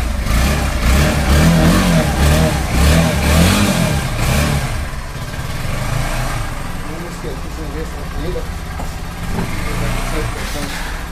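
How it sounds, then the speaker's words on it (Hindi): A Bajaj Pulsar NS 160 motorcycle runs after carburettor and air filter cleaning, its engine revving up and settling repeatedly at close range, with voices talking over it throughout. "ये गाइस स्टार्ट हो गई हमारी बाइक"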